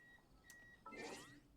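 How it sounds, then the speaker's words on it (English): Electronic beeping from a backup power supply after a power outage, heard as a steady high tone followed by a louder burst of warbling, sweeping beeps over low room noise. "but there's a lot of beeping."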